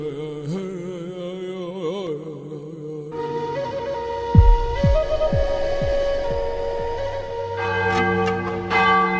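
A church bell, told of as the golden bell of an enchanted lagoon legend, rings with deep, resonant strokes that come in a slow series and hang in the air over a sustained musical drone.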